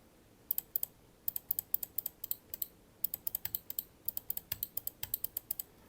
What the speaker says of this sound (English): Once you put the mouse sort of on like a solid object like your desk, the clicks become really tinny sounding.